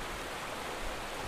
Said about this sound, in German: Das sieht man nach einem reißenden Fluss aus